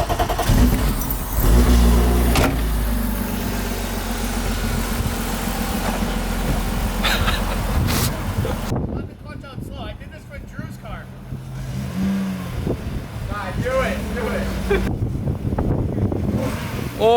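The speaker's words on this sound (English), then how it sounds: "Just working the throttle." An engine in a garage revs and idles as the throttle is worked, rising and falling in repeated surges, loud and close, with people talking and exclaiming over it.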